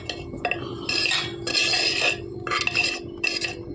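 A spoon scrapes and clinks around the inside of a pot, coating its walls with curd, in several short bursts of metallic scraping separated by brief pauses, close and fairly clear over a low background hum.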